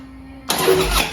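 A salvage Harley-Davidson Road Glide motorcycle engine cranks and fires abruptly after a quiet stretch, then runs loud and rough close by with no talk.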